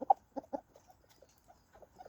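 A farm chicken clucking close by in a few short, separate bursts, loudest at the start, then softer scattered clucks with quiet gaps between them.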